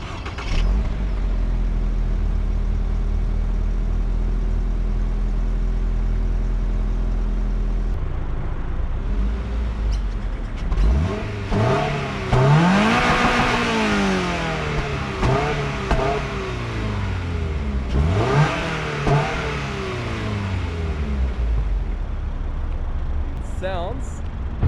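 A Toyota GR86 10th Anniversary sports car idles with a steady low rumble, then revs repeatedly, each rev swelling sharply and falling back, loud and close, with some voices in the background.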